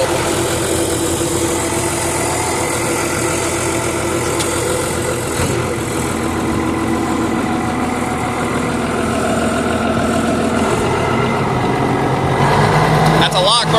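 A vehicle engine running steadily with its throttle held by a lock throttle, a loud continuous mid and low drone at a constant speed that rises slightly near the end.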